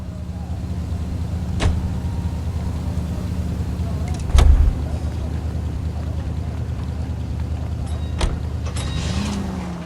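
A car driving in the video game L.A. Noire, a steady low engine hum with a few sharp clunks and knocks along the way, fairly loud and continuous.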